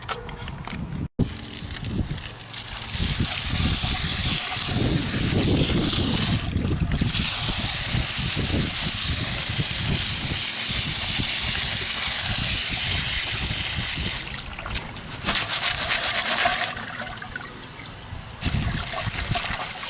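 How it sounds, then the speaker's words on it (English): Water sprays hard over dug gravel being washed through a screen while sifting for Colorado zircon gems and crystals; a loud, continuous rushing hiss runs throughout, with a few short pauses and dips and no speech. "So first of all, I'm going to screen the stuff down and wash it out"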